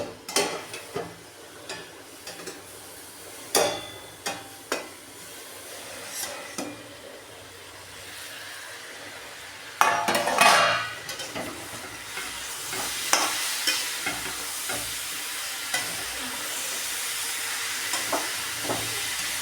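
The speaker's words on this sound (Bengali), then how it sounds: "কষিয়ে নেব, তারপরে আমি দেখাচ্ছি।" A vegetable curry being stirred and fried in a pan gives repeated scraping strokes and clanks early on, then a louder, busier sizzle with steam hiss after about ten seconds, close and without speech.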